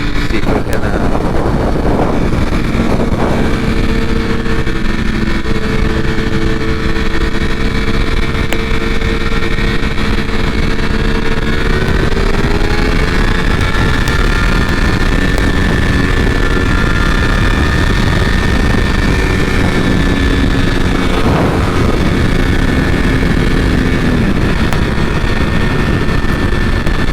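A 2020 Ducati Panigale V4 R superbike rides on a short Sunday outing, its engine droning steadily and loudly throughout with shifting pitch as it slows and changes gears, wind noise roaring underneath.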